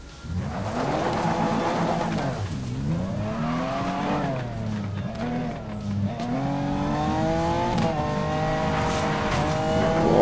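A BMW M car engine in Need for Speed Most Wanted revs hard and loud, its pitch climbing and dipping through repeated throttle sweeps, then holding a sustained high-rev drone.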